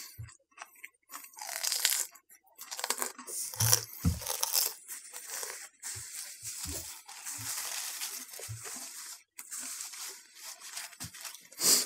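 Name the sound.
crunching while eating French baguettes with spaghetti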